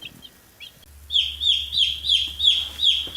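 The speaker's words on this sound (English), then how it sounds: "There's always one that has to make that screeching, chirpy sound." Chicks peep and screech in a rapid, repeating series of shrill chirps, close and fairly loud over a low steady hum.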